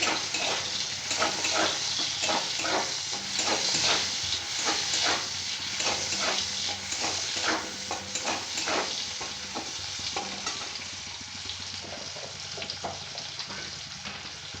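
Chana and chopped pointed gourd fry in mutton fat with tomato in a pan, giving a steady close sizzle broken by repeated scraping stirs throughout, with no talking.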